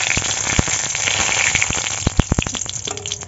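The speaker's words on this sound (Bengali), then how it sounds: "তেল গরম হয়ে গেছে, দুটো শুকনো লঙ্কা দিয়ে দেবো, একটুখানি কালো জিরে" Dry chillies, nigella seeds and curry leaves sizzle in hot oil, a close, bright crackle with quick popping bursts throughout and no talk.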